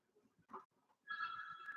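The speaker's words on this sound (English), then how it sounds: "And my phone is ringing." A phone rings with a steady electronic tone that starts about halfway through and holds, preceded by faint brief indoor noises, fairly quiet overall.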